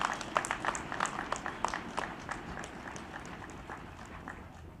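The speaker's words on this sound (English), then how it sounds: "Please join me in a round of applause congratulating this year's honorary doctorate recipients" An audience claps at a college graduation ceremony for honorary doctorate recipients. Sharp individual claps stand out at first over a dense patter, then thin out and fade as the applause winds down.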